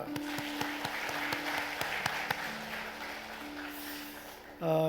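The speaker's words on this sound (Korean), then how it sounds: "박수 한번 더 합시다" A church congregation claps steadily in a reverberant hall during a Sunday service, with a low sustained tone running underneath, before the clapping gives way to a different sound at the end.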